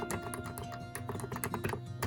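Typing on a new computer keyboard at a home desk setup, a quick run of close, crisp key clacks in an uneven rhythm, fairly quiet, with no talking.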